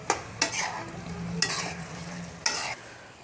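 Okra stir-fry stirred in a pan over a high flame: four sharp spatula scrapes come at uneven intervals over a steady, low sizzle of frying vegetables, close and fairly quiet.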